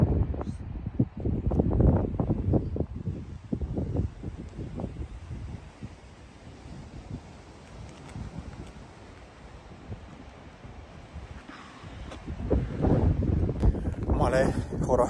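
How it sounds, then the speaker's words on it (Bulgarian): Strong, gusty wind buffets the microphone high on a mountain in the Rhodopes, a loud broadband roar that swells and eases across the clip, with a person talking over it at the start and again near the end. "Излезе супер бесен вятър."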